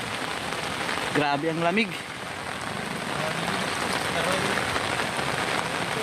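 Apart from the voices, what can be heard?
heavy rain falling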